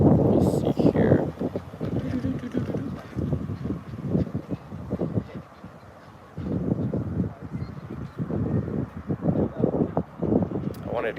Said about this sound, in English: got a lot of wind out here